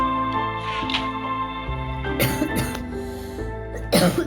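A person coughs a few times in quick bursts, near and fairly loud, over steady tonal background music from a Minecraft game session.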